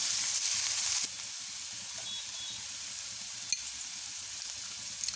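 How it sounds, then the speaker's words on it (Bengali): Onion paste frying in a pan over a low gas flame, a soft continuous sizzle that drops quieter after the first second, with a few faint clicks, no talking. "পেঁয়াজটা ভেজে নিচ্ছি।"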